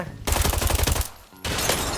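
Rapid bursts of automatic gunfire from an RPK-161 with a hundred-round magazine in the video game Arena Breakout rattle loudly, pause briefly, then resume in another dense burst.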